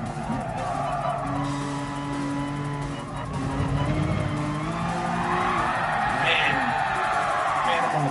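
In Gran Turismo Sport, a race car engine drones steadily and rises in pitch, with long squeals from the tires as the car slides through corners. The sound is loud and close and carries on without a break.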